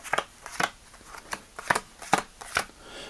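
Playing cards are riffled and tapped together in a series of short, crisp bursts, about six in quick irregular succession, close and fairly quiet.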